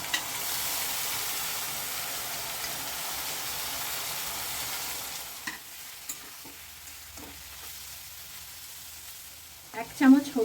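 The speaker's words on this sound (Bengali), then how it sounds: "একটা পেঁয়াজ আর একটা টমেটো পেস্ট করে নিয়েছি সেইটা এখানে দিয়ে দিলাম সাথে দিয়ে দিচ্ছি ধুয়ে রাখা শুকনো মাছগুলো" Onion-tomato paste and washed dried fish go into hot oil in a pan, giving a loud, dense sizzle that fades to a quieter frying hiss with a few stirring knocks.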